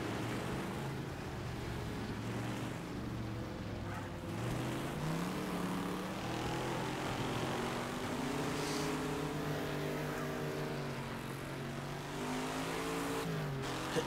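Racing cars in Wreckfest on a dirt track, a continuous engine drone whose pitch climbs and falls as the cars rev and shift, steady and moderately loud for the whole stretch.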